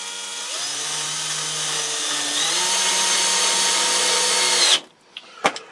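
A power drill whines steadily for several seconds while driving deck screws into a small wooden workbench, then stops, followed by a couple of faint knocks.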